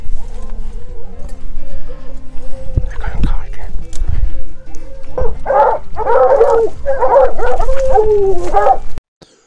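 A young hunting dog on an overnight track barks and yips in a run of sharp, repeated bursts that grow busier toward the end, with someone talking over the start.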